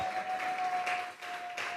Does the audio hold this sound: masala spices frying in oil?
no